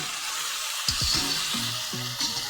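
Cauliflower frying in a pan, a dense steady sizzle with occasional stirring clinks and scrapes, close and alone with no talking.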